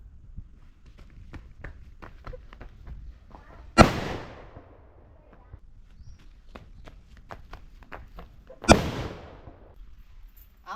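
Two sharp, loud firecracker bomb blasts go off about five seconds apart during outdoor festival fireworks in Barkur. Each bang rings out briefly, with faint scattered clicks and scuffs between them.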